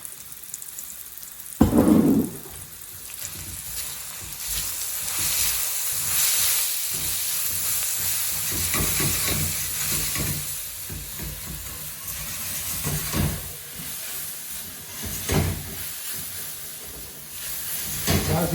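Onions caramelising in oil in a pan for malai kofta, a steady loud sizzling hiss that runs continuously with a sharp burst of crackle near the start and occasional spatters.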